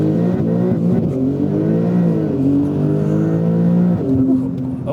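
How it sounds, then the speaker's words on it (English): A 900-horsepower Porsche 992 Turbo S launching hard in launch mode, its engine droning loudly and climbing in pitch through rapid gear changes, with strong low rumble heard close up from inside or near the car. "let's just go ahead and test this car in launch mode"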